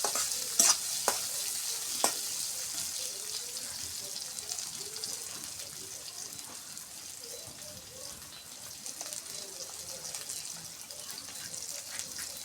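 Chopped onion and green chili sizzle softly in hot oil in a pan with bay leaves, broken by a few sharp scraping clicks of stirring early on.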